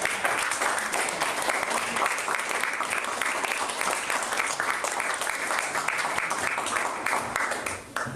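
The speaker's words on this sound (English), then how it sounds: "Let's give a big round of applause." A large audience applauds steadily, a dense, continuous wash of clapping that holds for several seconds before briefly dipping near the end.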